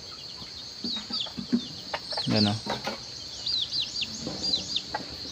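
Chickens cluck and chirp over farmyard background noise, several birds calling in short bursts, with a person talking briefly in Filipino.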